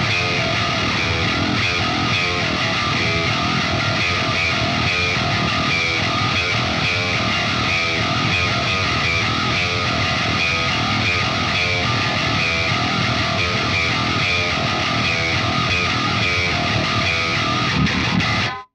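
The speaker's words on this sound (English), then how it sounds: "we're gonna do another distorted metal rhythm tone, and it's gonna sound something like this." Ormsby HypeGTR 8-string guitar through its split-coil bridge pickup chugs a distorted metal rhythm, dense and continuous at steady volume with no talk, stopping abruptly at the end.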